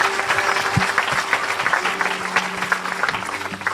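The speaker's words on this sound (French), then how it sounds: "On acclame le Seigneur." A church congregation at a healing testimony service claps and cheers in sustained, dense applause that fills the room, steady and fairly loud throughout, with a faint hum and occasional murmured voices beneath.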